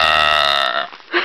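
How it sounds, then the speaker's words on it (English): A loud, drawn-out burp from a woman on a hiking trail at Wildcat Mountain State Park, droning for about two-thirds of a second before breaking off into a brief, softer vocal sound. "Thought we'd greet you with a nice warm burp"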